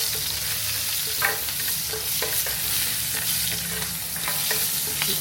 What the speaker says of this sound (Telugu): ఇది వేగాక పచ్చిమిర్చి కూడా వేస్తాం. పచ్చిమిర్చి వేస్తున్నా అండి.